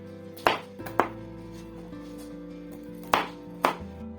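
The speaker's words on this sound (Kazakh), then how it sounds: "Салатты дайындау үшін грек жаңғағын және черносливті тақтайшада турап аламыз." Walnuts and prunes being chopped with a knife on a cutting board, four distinct sharp knocks in two pairs with pauses between, close and clear over a faint background hum, no talking.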